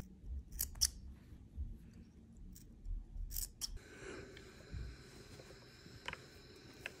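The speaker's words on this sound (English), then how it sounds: "Snip along the neckline." Scissors snip through fabric along a sewn bodice neckline, a few quiet, close, crisp cuts in short bursts over a soft background, with no talking.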